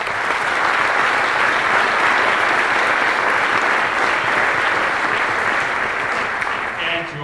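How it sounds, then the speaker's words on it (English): Dense, sustained applause from a school auditorium audience honouring band directors at a junior high all-region band concert, steady and loud throughout before tapering slightly at the end. "Let's give them a round of applause"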